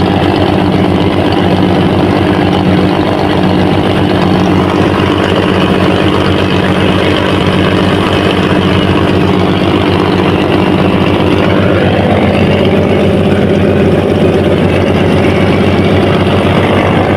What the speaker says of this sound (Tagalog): makina nga pala natin mga kaigops ay dalawang double engine na Isiki 3 piston